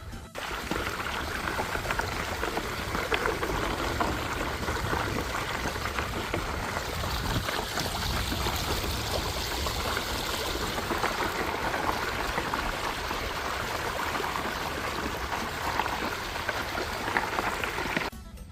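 Continuous rushing water in Thailand, like a stream flowing steadily, fills the whole stretch with an even, dense hiss and no pauses.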